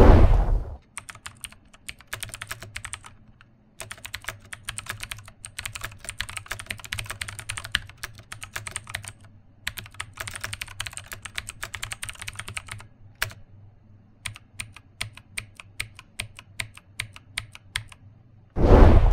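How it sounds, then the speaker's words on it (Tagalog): Rapid, steady typing on a Rakk Ilis 96-key hot-swappable mechanical keyboard with clicky Outemu Blue switches, close and loud, with short pauses between bursts and no talking. "Ang titignan natin ngayon ay ang Outemu Blue version na pwede nyo rin i-hot swap dahil modular ito."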